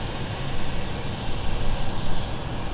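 An aircraft moves along the runway at London City Airport with a loud, steady broadband engine roar that swells and dips slightly, without talk.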